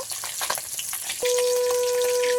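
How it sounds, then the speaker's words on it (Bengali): Pond tilapia pieces sizzle as they fry in a pan, a steady crackling hiss through the short stretch, joined midway by a constant high electronic tone. "মাছগুলো ভালোভাবে উল্টে পাল্টে ভেজে নেব।"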